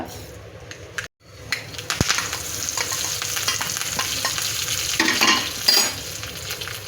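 Mustard seeds sputtering in a little coconut oil, a broadband crackling sizzle with scattered sharp pops and stirring scrapes, close and fairly loud, briefly cut near the start, a curry of bitter gourd under way.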